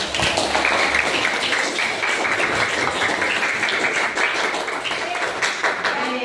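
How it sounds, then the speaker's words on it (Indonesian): Children in a classroom clap their hands together, uneven, close taps with some thumps, and voices mixing in. "Tepuk tangan"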